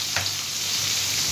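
Onion and garlic frying in hot oil in a pan, a steady bright sizzle running throughout with a brief sharper crackle near the start, close and fairly loud, no talking.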